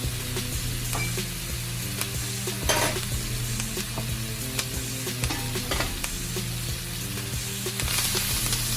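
Mushrooms, onion and thyme sizzling in a pan while being stirred, a steady close frying hiss broken by light scrapes and taps of the utensil.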